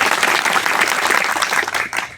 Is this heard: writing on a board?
no